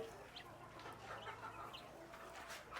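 Country chickens cluck softly in short bursts over a low steady hum, close by but quiet.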